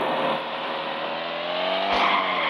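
Cars in a crash physics video game drift and skid, a steady engine roar with a sliding tyre squeal that swells briefly near the end, with no talk over it.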